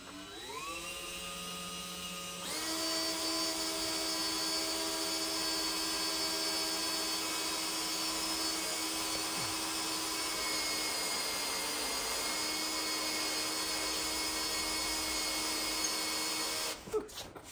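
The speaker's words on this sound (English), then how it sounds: "So we're gonna go ahead and drill that real quick" A power drill whirs steadily at high speed for a long stretch, its pitch shifting as it bites into a Ford Highboy's metal frame, then it stops.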